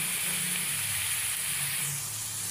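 Garlic-ginger paste and chopped green chillies sizzle in hot oil, a steady, loud, bright hiss that holds evenly throughout with a faint low hum beneath and no talking.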